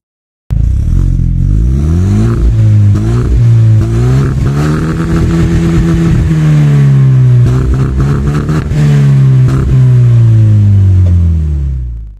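A Hyundai Genesis coupe with a 2-litre twin-turbo four-cylinder engine revs up and down repeatedly, loud and close, its pitch rising and falling through several throttle blips for about twelve seconds with no talking.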